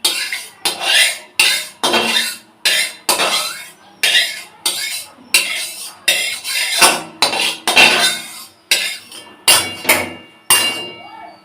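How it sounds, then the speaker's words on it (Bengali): A metal spatula scrapes and knocks around a hot wok while mustard oil is spread across it, a string of about fifteen sharp, loud, close strokes in a steady rhythm with no voice over them. "তো কড়াইয়ের তেলটা সব দিকে আমি চালিয়ে নেব খুন্তি দিয়ে।"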